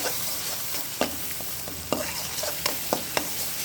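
Ginger-garlic paste frying in a pan for an okra stir-fry, with a steady sizzle under several sharp scrapes and taps of a spatula stirring against the pan, close and fairly quiet.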